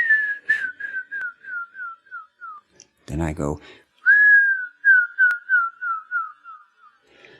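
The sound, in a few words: whistled imitation of bird song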